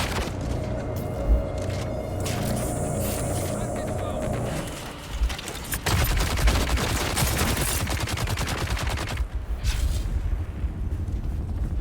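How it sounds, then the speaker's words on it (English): Missile launcher fire and combat in the video game Dune: Awakening: dense bursts of gunfire and explosions run throughout, loudest in the second half, mixed with game noise and a voice speaking over the action. "I've never played around with the missile launcher before, so I am getting absolutely destroyed here"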